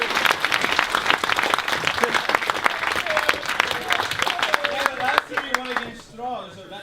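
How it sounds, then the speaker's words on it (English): Audience applause for Rich at a Steamforged team Q&A session, a dense sustained round of clapping from a crowd that thins and fades near the end, with a few voices emerging as it dies down. "can we take a second to pause to give Rich a massive round of applause?"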